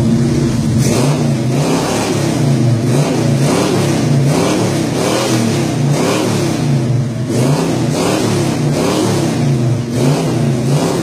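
A Chevy truck's engine at a Lewiston car show revs again and again in a steady rhythm, rough rumbling pulses swelling and easing over a constant idle, heard up close.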